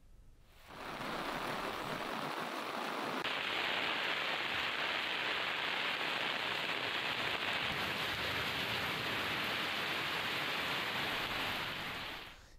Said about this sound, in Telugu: సికింద్రాబాద్ కంటోన్మెంట్ ప్రాంతంలో భారీగా వర్షం కురుస్తుంది.